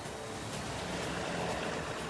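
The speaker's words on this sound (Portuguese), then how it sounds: "os rebocadores têm que se esforçar ao máximo. Seus motores dão potência total." Tugboats strain at full engine power while towing a heavy square platform in the port of Rotterdam. A dense, steady roar of engines and churning water holds for the whole stretch without a break.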